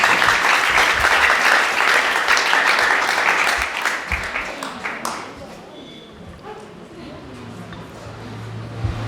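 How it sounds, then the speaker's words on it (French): An audience at a graduation ceremony applauds loudly with a dense, sustained burst of clapping that fades after about five seconds, leaving quieter room noise with a voice speaking. "je vous demande d'applaudir chaleureusement Mon Désir Lundi qui s'arrête pour nous donner une prestation"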